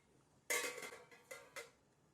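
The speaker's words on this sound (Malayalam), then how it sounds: "ഇനി നമുക്ക് ഡലിപ്പ തട്ട് വെച്ചു കൊടുക്കുക" An idli steamer plate is set into a pot of boiling water, making a quiet metallic clatter followed by two smaller clinks as it settles.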